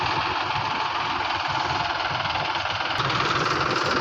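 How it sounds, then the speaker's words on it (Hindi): A tractor fitted with a loader idles at a plant nursery, giving a steady, close diesel rumble with a faint knocking rhythm that runs without a break under no talk. "ये भाई साहब ट्रैक्टर का लोडर लेके आए हैं।"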